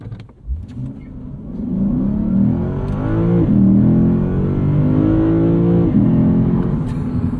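A 2024 Lexus IS 500 472hp V8 sedan engine in Sport Plus mode fires up with a burst, then revs and surges through rising and falling pitches, loud and close, with no talking.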